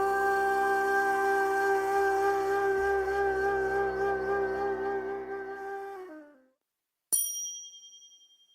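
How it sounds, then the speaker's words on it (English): A Turkish ney reed flute holds one long, wavering breathy tone that slowly fades out, followed after a short silence by a single bright ding. "One of the most famous instruments from Turkey is the ney."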